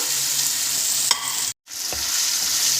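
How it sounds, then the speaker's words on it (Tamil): Cut idli pieces for kothu idli go into a pan of masala, giving a continuous frying hiss with a soft clatter as they land and a brief drop to silence in the middle. "இப்போ வந்து நம்ம கட் பண்ணி வச்சுருக்கிற இட்லியை வந்து போட்டுடலாம்."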